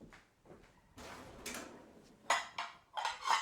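Warm ceramic bowls being picked up and set down in a home kitchen while making linguine, giving a few light clinks and knocks with soft handling noises in between, close and fairly quiet.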